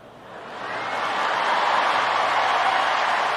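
Spectators at a US Open tennis match break into applause, a broad crowd roar swelling up from quieter to full and sustained, heard from a distance across the stadium.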